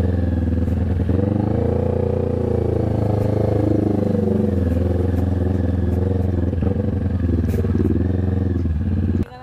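A motorcycle, not set up for trail riding, labours over a rough rocky trail, its engine droning steadily close by with clattering bumps throughout.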